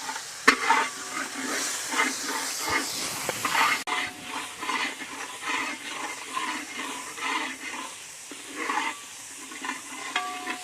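Tomatoes with salt fry in a hot pan, giving a continuous close sizzle broken by irregular scraping and stirring clatter from a spoon.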